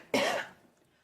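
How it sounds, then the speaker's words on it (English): A single sharp cough close to the mic, a short harsh burst that quickly trails off into quiet. "I got a cough"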